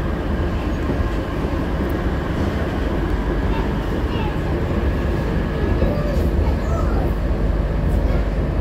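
A nearly empty metro train at night rolls along with a loud, constant low rumble and rushing hiss heard from inside the carriage, steady throughout with faint rattles.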